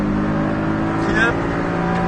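Porsche Cayman on the Bresse race circuit, its engine droning steadily and close inside the cabin, with a brief rising rev as it pulls out of a tight corner.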